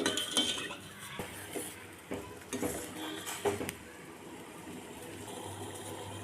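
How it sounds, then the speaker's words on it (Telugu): Sugar syrup stirred in a pan for a semolina gulab jamun sweet: a spoon scrapes and clinks against the metal pan in uneven strokes over a faint simmer, fairly quiet and close. "ఇలా పాకు వచ్చే వరకు కలుపుకోవాలండి"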